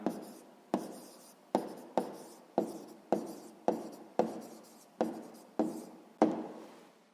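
Pen strokes of someone handwriting an answer to a sixth-grade maths exercise comparing rational numbers, about eleven short, evenly spaced scratches in a steady rhythm, close and quiet with no talk.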